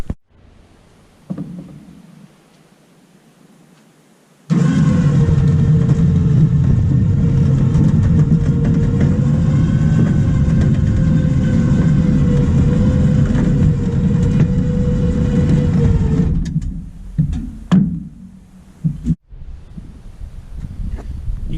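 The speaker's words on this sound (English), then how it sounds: "You can see as I'm winching it up" Harbor Freight Badland electric winch hauling a rusty scrap Chevy Trailblazer onto a trailer: a loud, steady motor whine and drone holds for about twelve seconds, then sputters and stops amid clunks.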